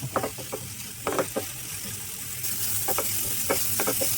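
A mixture fries in a pan for rava paneer dosa while a spatula scrapes and clatters in irregular bursts over a hiss that grows louder and steadier partway through.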